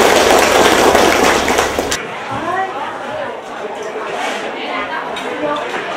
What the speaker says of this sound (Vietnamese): Rồi vỗ tay.